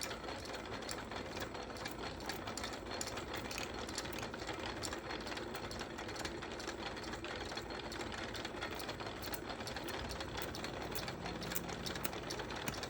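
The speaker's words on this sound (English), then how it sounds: "Let's see what happens when I touch it when the wheels spin." A homemade perpetual motion device with a fired coil whirs continuously as its wheels spin, a close mechanical rattling hum with fast rhythmic ticking running steadily throughout.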